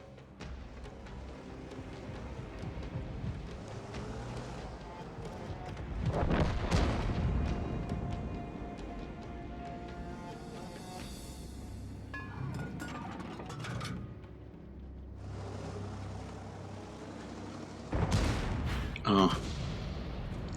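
Several heavy booming shots from a self-propelled artillery gun in a tank battle game, spread across the span, with one loud blast in the middle and another near the end, under steady background rumble.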